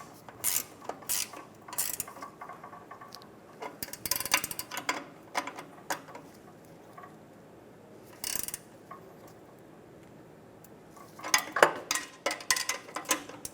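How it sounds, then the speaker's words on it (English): Wrenches, a 17 mm and a 14 mm, tighten and hold exhaust pipe bolts on a 2007-2012 Nissan Altima during catalytic converter replacement: scattered close metallic clicks and ratcheting taps, with a brief burst mid-way and a denser flurry near the end. "Now I'm going to be using a 17 and a 14mm to tighten down and hold the head of these"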